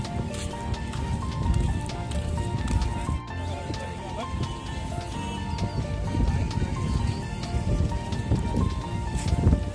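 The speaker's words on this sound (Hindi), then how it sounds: "अब पर भी बारिश की बूंदाबांदी पड़ रही है।" Steady patter of light rain on surfaces beside the flooded Ganga River, with a person talking throughout over the soft, continuous drizzle.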